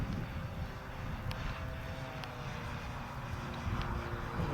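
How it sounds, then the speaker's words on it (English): An Avios Tucano radio-controlled model airplane flies with its electric motor running, a steady, fairly faint engine drone mixed with wind noise throughout, heard from a distance. "Now what I will do, Peter, since you used the motor, I won't fly it for too long."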